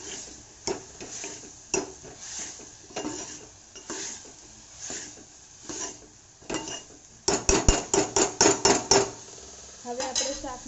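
A spoon stirs red chilli powder, turmeric and garam masala into radish curry in a metal pot, with repeated scraping strokes that grow louder and faster toward the end.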